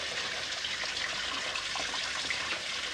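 Water pours steadily into a container for about three seconds, a continuous close splashing gush with no voices over it.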